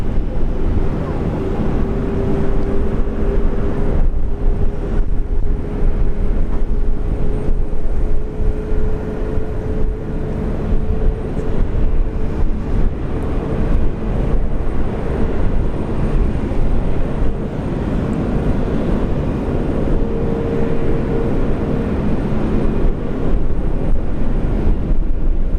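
Airbus A380 taking off from Brisbane Airport bound for Dubai, a continuous loud, heavy jet roar with a steady low rumble and faint whine holding throughout, broad and unbroken.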